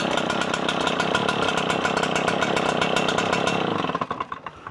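A small two-stroke leaf blower engine revs hard and steadily for about four seconds, then drops off into sputtering, uneven pulses as it slows, loud and close with no talking.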